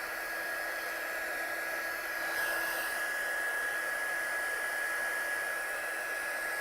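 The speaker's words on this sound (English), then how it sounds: "So let's try it with my heat gun" A heat gun blows a constant, even hiss of hot air over wet ink, loud and close and running alone with no talk for the whole stretch.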